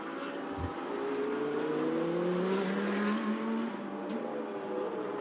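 Touring race car number 89 in a TSS The Super Series race, coming through with a rising and falling engine whine that holds close for several seconds, with no voices.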